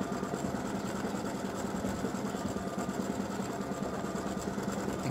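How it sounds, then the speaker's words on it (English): An embroidery machine stitches the first layer of a freestanding lace gingerbread house earring, a steady, close mechanical whir with a fast even hum running unbroken throughout. "So it's doing the first layer of stitching right now."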